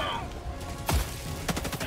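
Autocannon fire in Helldivers 2, heard as two heavy, loud booming shots spaced about half a second apart over a busy background of game battle noise.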